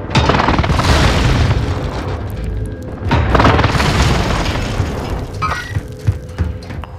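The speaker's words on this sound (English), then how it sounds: "Precision airstrike missed." Precision airstrike explosions in Warzone on Rebirth Island, a sustained run of loud, heavy booms rolling one into another, with a fresh blast near the middle and smaller thuds trailing off at the end.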